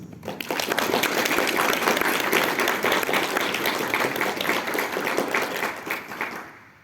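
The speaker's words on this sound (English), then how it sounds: "give a round of applause for our panelists" Audience applause greets the panelists at a writers panel at the Pyrkon 2026 convention. It is dense, sustained clapping from a large crowd, loud and steady for about six seconds, then tapering off at the end.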